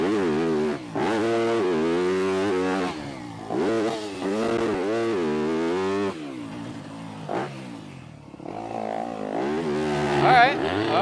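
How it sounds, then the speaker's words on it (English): Dirt motorcycle working through a rutted double-double section, engine revving up and down with gear changes between third and second, loud and close, with a voice talking over it for much of the time. "Up to third, down to second. So that's second gear in the turn"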